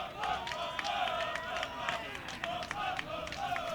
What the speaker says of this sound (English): The Tusculum crowd has traveled well.